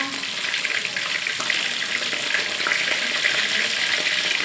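Mackerel (pla thu) frying in hot oil, to be eaten with shrimp-paste chili dip, giving a continuous, fairly loud crackling sizzle with small pops and bursts throughout, heard alone without talk.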